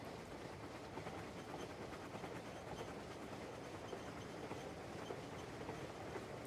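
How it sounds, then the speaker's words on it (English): A train ride in the video game Crimson Desert plays as a continuous rolling rumble with faint rail clatter, steady and unbroken, at a fairly low level. "36 minutes on the train."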